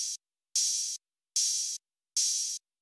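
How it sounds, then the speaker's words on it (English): Open hi-hats in an emo plugg beat, four long sustained hissing hits in an even rhythm with silent gaps, bright and alone. "And we combine that with a very simple open hat pattern."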